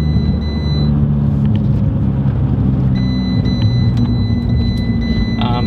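A 2012 Fiat 500 cruising in third gear at about 40 to 45 mph gives a loud, steady interior engine drone and road rumble, with faint ticks and a thin tonal whine on top.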